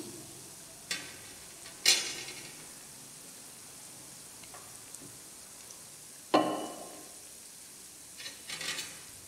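A dosa cooks on a hot pan with a soft continuous sizzle, broken by a few sharp scraping stirs and spatula strokes, close and quiet.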